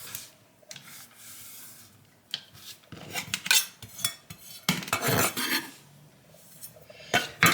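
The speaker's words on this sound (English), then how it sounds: "I'm going to take my carrots and I'm going to put them over here in the bowl." Carrot pieces, salted for Korean bibimbap, tumble and scrape into a bowl with irregular close clatters and rubbing, several louder bursts of clinking and scraping near the end, no talking.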